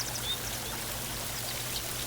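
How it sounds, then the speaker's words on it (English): A waterfall gives off a steady, dense rush of flowing water, a continuous even hiss with no breaks and no voices. "every time you take a shower, you will remember this waterfall"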